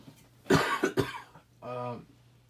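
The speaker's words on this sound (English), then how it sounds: "I think I'm getting some kind of dry cough" A couple of sharp, dry coughs close to the mic, followed by a brief voiced throat sound.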